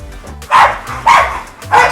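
Several American Bully dogs at a kennel bark in three loud, separate bursts, each about a quarter second long, with a short pause between them. They sound fairly close, and no one talks.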